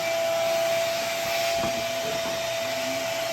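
A vacuum cleaner cleans Subaru hood and car parts with a steady, loud whooshing roar and a constant whine, alone and close by.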